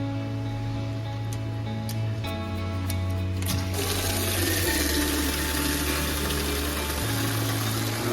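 Water sprays in a steady hissing rush while a 2005 Honda CBR1100XX Super Blackbird motorcycle is washed, a low machine hum droning under it and faint clicks early on before the spray opens up fuller.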